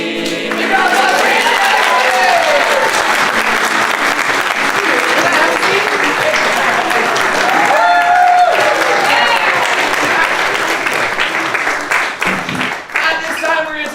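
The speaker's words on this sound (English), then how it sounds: "Big round of applause for" A crowd at an improv comedy show breaks into sustained, loud applause lasting the full stretch. Dense clapping mixes with a few cheers and murmurs before it begins to thin out at the very end.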